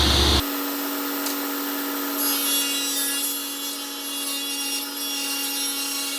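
A table saw rips a 5.5-inch-wide wooden board down the center for garage trim, the blade's loud steady whine starting abruptly and holding on continuously as the wood is fed through, close and alone.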